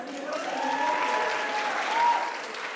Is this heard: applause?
yes